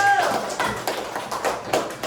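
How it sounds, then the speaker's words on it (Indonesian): A classroom of students clapping for the first group after its presentation, a dense patter of hand claps with voices mixed in underneath. "Tepuk tangan dulu untuk kelompok 1."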